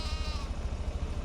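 Sheep and goats bleating during morning feeding on a farm, a wavering bleat near the start over a steady low background hum.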